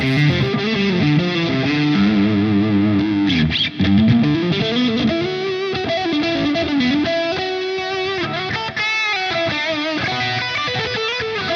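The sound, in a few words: guitar through double octaver effect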